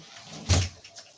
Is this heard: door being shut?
yes